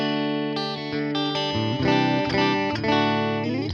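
Electric guitar played through a Fender Princeton Reverb ToneMaster amp with a Tube Screamer drive pedal and added reverb, a short run of sustained overdriven chords and notes ringing out loud and alone, ending abruptly.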